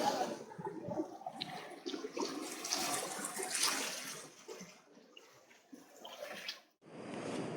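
Water rushing along a river at a picnic spot on a bike-ride outing, a steady broadband wash with surging waves that swells and dips, then briefly drops out near the end before returning.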